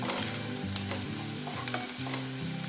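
Onion sautéing in a pan for a wet cashew curry, a continuous close sizzle broken by scraping stirs at intervals, no one speaking.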